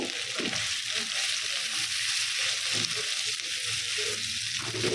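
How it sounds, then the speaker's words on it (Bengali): Onions frying in oil with a little salt, a steady, close hiss of sizzling that runs unbroken from start to finish with no voices. "পেঁয়াজটা কিছু কাঁচা থাকবে কিছু গোল্ডেন হবে এ পর্যায়ে ভেজে নিতে হবে"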